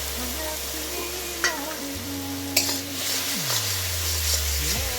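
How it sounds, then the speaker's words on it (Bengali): Garlic and green chili paste sizzle in hot oil with browned onions in a pan, a steady frying crackle punctuated by scraping stirs and a couple of sharp utensil clinks. "এবার রসুন আর কাঁচা লঙ্কা পেস্টটা দিয়ে দেবো।"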